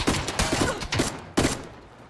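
Gunfire in the battle-royale video game PUBG: a quick run of loud, close shots in an uneven burst, followed by one more sharp report with a fading tail.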